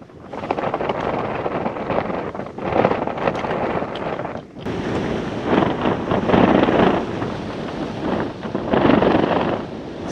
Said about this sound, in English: It's getting really windy out there.